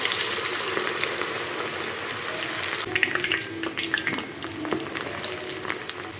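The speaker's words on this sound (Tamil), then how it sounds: "இப்போ ஆயில் வந்து சூடாகிடுச்சு. நம்ம ஒவ்வொரு பேட்சை வந்து ஃப்ரை பண்ணி எடுத்துக்கலாம்." Cauliflower pieces for gobi manchurian fry in batches in hot oil, with a steady broadband bubbling hiss and crackle that carries on unbroken from start to finish and is heard alone, fairly loud and close.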